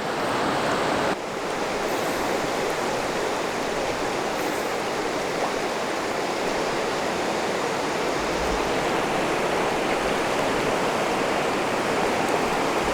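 A northern river rushes through rapids in a steady, loud, broadband roar that runs unbroken throughout, with no voices over it.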